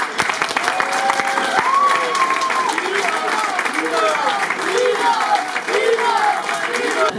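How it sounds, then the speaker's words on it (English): A crowd at the Barnet FC and London Bees 24/25 awards applauds steadily throughout, a dense wash of clapping with voices and a speaker talking over it. "So a big round of applause for all of us."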